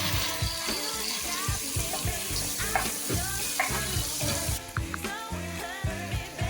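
Two large tomatoes sizzle and spit in hot oil for a prawn gravy with coconut milk, a steady close frying hiss with clicks and stirring sounds throughout, no talking.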